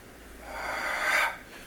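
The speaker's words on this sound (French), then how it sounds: "toujours l'expiration comme si on faisait la buée sur une vitre" A single forceful, breathy exhale during a Pilates exercise, close and soft, swelling over about a second and then fading away.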